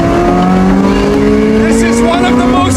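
Naturally aspirated V8 of a Porsche 918 Spyder race-bred hypercar, roof off, holding a steady loud drone with a gradually rising engine pitch throughout, close and continuous.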